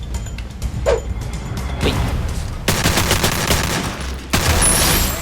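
Gunfire in the mobile shooter Free Fire, loud dense bursts of rapid shots and a fusillade that keep going almost without a break, with sharper volleys partway through and near the end.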